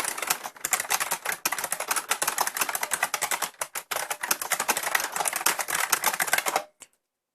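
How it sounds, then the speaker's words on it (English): Fast typing on an IBM buckling spring keyboard, a dense stream of loud, sharp clicky keystrokes with a springy clack, steady and close for several seconds before stopping abruptly, with no voices over it. "The sound, obviously, it's buckling, IBM buckling springs."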